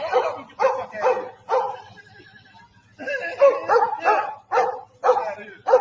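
Dogs bark repeatedly in an irregular series of sharp yips and whimpers, near and moderately loud, with voices mixed in.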